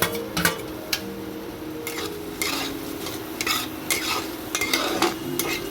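Shrimp fries in a pan with turmeric and Kashmiri red chilli, giving a continuous moderate sizzle under repeated spatula scrapes and clinks against the pan at irregular intervals, with no talking.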